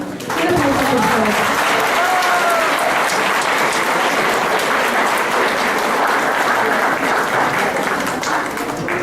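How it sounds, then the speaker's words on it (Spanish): Sustained applause from the audience at a round-table panel on suicide and childhood, loud and continuous for several seconds as the coordinator is introduced, with no talk over it. "Un aplauso, por favor."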